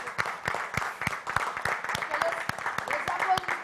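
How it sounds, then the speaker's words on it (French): Studio audience applauding on a French television music and culture programme, a dense, steady patter of many hands clapping at moderate level for several seconds with no talk over it. "On va l'applaudir."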